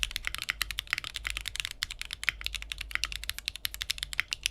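Steady, rapid typing on a custom-built Cycle7 mechanical keyboard, close and fairly quiet, with dense clicky keystrokes running continuously without any talk.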